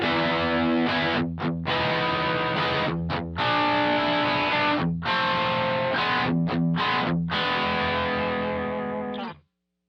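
Electric guitar in a live looping rig with the stereo spread effect switched on, playing sustained, distorted, chorus-tinged chords with short gaps, loud and close, before cutting off abruptly near the end.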